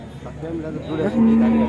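A cow moos at the Sunday cattle market in Chintamani, a close, loud call that swells toward the end and holds a long, steady low note.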